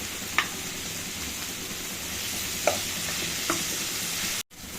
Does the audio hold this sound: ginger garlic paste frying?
yes